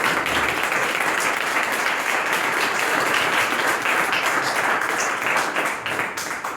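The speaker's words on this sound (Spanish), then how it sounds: "un aplauso" Loud, sustained audience applause at a book presentation in Valladolid, dense clapping from a roomful of people that holds steady before easing slightly at the end.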